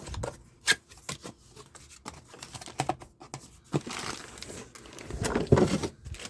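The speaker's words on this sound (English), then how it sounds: "they're rolled up and compressed into this plastic bag" Memory foam donut seat cushion pulled from its compressed plastic shipping bag, giving scattered crinkling and rustling bursts of plastic with irregular pauses, louder rustling near the end, close up and with no talk.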